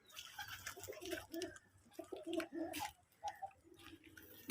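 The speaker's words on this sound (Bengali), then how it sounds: "দেখেন কবুতরগুলো গোসল করতেছে।" Pigeons bathe in water, soft cooing and murmuring calls mixed with faint splashing and fluttering, quiet and close.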